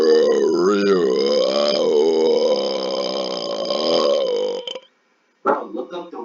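A long, loud, continuous burp drawn out for nearly five seconds, strongly voiced and wavering in pitch, breaks off abruptly, then after a brief silence a shorter rough burst follows.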